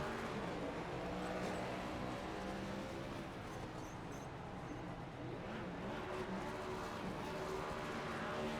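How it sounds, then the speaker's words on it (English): Stock car doing burnouts after a Cup Series win at Bristol at night in an oval racing game, a steady roaring engine and tire noise held at a moderate level throughout without a break. "Drops the clutch. Does his burnouts."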